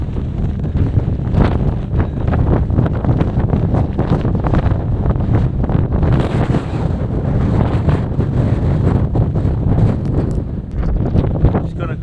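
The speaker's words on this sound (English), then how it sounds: "Very windy, isn't it? It's very windy." Strong wind on the open moorland of Standedge and Marsden Moor roars and buffets the microphone without pause, a loud, constant rumbling gust that never lets up.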